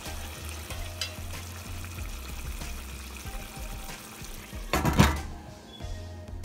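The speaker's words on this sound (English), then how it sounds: "let it simmer for about 2-3 minutes where the fish gets cooked" Mahi mahi fish simmers in a Mexican-style sauce in a pan, giving a soft continuous bubbling and sizzle with a low steady murmur, interrupted near the end by a brief louder clatter of the pan or utensil.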